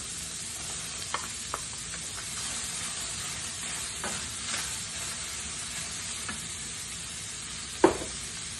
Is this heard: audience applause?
no